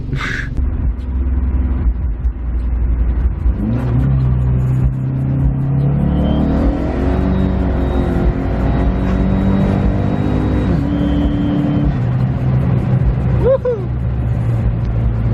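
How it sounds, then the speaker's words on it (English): A car on a wet road strains and revs as it loses traction, its engine rumble rising and wavering with a hopping, uneven pitch, loud and close, with a brief voice at the start. "Lost traction in second, baby."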